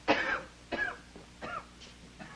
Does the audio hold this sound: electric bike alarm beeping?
no